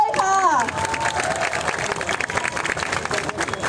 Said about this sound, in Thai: ขอเสียงปรบมือให้อาสาสมัครไอลอด้วยค่ะ